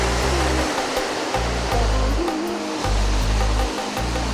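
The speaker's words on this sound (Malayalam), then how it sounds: "നല്ല തിരമാല ഉണ്ട് കേട്ടോ." Sea waves crash on the rocky Arabian Sea shore beside a walkway, a steady loud wash of surf with heavy rumbling swells, recorded close by and partly buffeted by wind.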